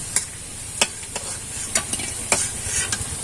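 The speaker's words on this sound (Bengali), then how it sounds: "আলুটা ভাজা হয়ে গেছে, এবার আলুটাকে তুলে নেব।" Oil sizzles steadily in a pan of frying potatoes while sharp scraping and stirring clicks break through at irregular intervals.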